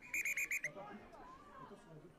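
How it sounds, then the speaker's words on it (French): A rugby referee's whistle at a U19 rugby union match sounds a rapid series of four or five short shrill blasts, followed by faint distant crowd chatter and talk from the sideline. "l'arbitre va siffler en faveur des Pianenques"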